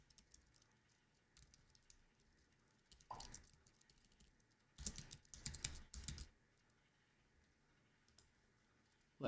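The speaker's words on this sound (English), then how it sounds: "the lady's typing right now" Someone types on a computer keyboard in short bursts of quick, light clicking, separated by quiet gaps, with a sharper flurry in the middle; faint and fairly close.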